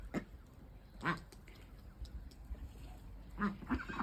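A few short quacking calls from ducks or geese, spaced apart, fairly faint against a low background rumble.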